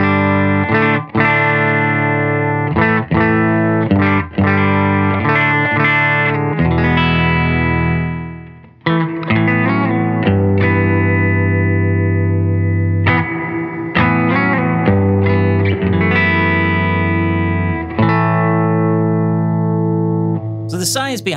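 An electric guitar played through a McGinney Guitar Satellite into a dry Benson Amps Monarch Reverb Plus amp plays a series of sustained chords and picked notes, loud and close, with a long gap partway through.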